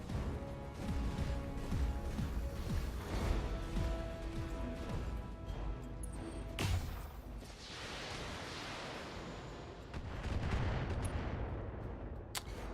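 Automated turrets fire in the Battletech video game, sustained rapid gunfire bursts with explosive crashes, dense and loud throughout, with a sharp blast partway through followed by a rumbling wash of impacts.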